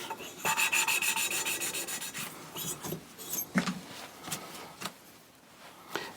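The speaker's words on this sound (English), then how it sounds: "And it's a much finer paste to start off with, just to finish it off." A cylinder head valve is lapped into its seat with fine grinding paste, producing repeated close scratchy rubbing strokes that are quick and rhythmic at first, then turn slower and more irregular.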